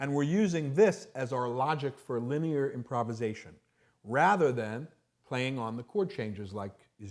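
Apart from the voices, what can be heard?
No everyday noises stand out.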